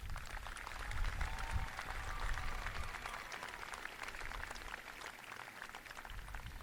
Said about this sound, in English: let's give them a rousing hand of applause